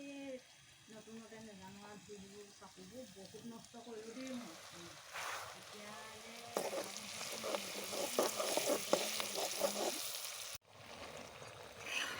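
Meat fries in hot oil in a wok and is stirred, making loud sizzling with scraping and clattering strokes. A voice is heard near the start, and the frying grows busier later.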